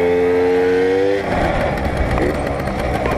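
A Tomos moped engine fitted with Hammer clutches revving high, a steady buzzing drone that shifts into a rougher, noisier roar partway through, close and loud throughout.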